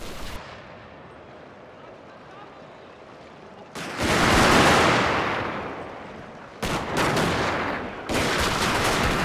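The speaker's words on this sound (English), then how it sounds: "Meanwhile, my gunfire is finally starting to have good effect." Massed musket and rifle volleys from infantry lines in the Total War: Fall of the Samurai video game, with dense crackling bursts that swell loudly at intervals over a steady battle din.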